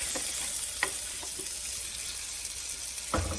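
Garlic and softened onions frying gently in a pot on low heat, a steady soft sizzle with a few faint utensil taps and a louder clatter near the end, no voices.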